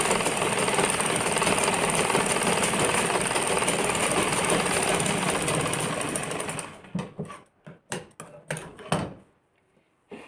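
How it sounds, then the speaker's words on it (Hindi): A sewing machine runs continuously and loudly while stitching a kurti collar with a second seam, then breaks into short stop-start bursts before falling silent. "आधा इंच की दूरी पे दूसरी सिलाई मारेंगे"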